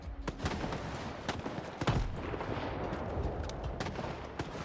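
Enemies open fire with guns in STALKER 2: a steady volley of sharp, cracking shots, some close and loud, others distant, over a dense rumbling background with no speech.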